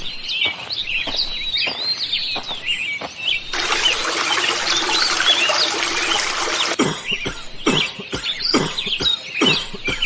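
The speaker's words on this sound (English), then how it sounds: "Now it's time to throw a bucket of water at them." In an animated cartoon, a bucket of water is thrown onto people sitting on a bench: a loud splash of rushing water lasts about three seconds, set between bursts of chirping birdsong.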